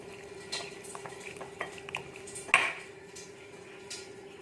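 A spoon clinks and scrapes in a bowl as fish is mixed with turmeric powder and salt: light, irregular taps, one sharper ring partway through, over a faint steady background hum.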